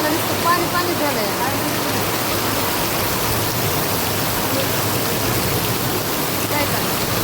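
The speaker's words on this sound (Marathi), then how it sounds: "आता पाऊस आलाय बसून आता किती पाऊस पडायला लागला" Heavy rain pours steadily onto a road and a nearby shutter, a dense, unbroken wash of hiss close by and fairly loud, with no clear speech over it.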